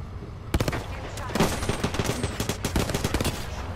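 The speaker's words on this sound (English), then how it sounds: "What the hell is that gun?" Rapid automatic gunfire from the video game Apex Legends, dense overlapping shots crackling continuously for several seconds, loud and close, with voices talking over the shooting.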